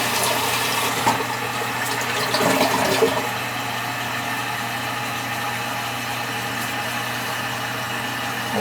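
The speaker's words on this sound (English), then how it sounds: "when you flush it." A household toilet with a tank leaking water underneath flushes with a loud rushing swirl that settles into a steady hiss and hum as the tank refills, close up with no voices.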